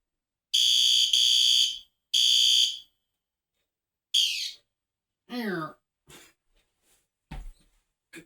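Two short, shrill electronic alarm bursts from a System Sensor P2R fire alarm horn strobe sound at low volume, then fade into brief chirps, scattered small noises and a faint voice.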